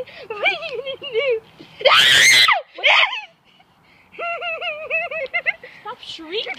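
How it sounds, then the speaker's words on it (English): A child shrieks in loud, high-pitched, piercing bursts near a pool, with repeated squeals and a sharp peak scream, mixed with playful voices and giggling. "Stop shrieking."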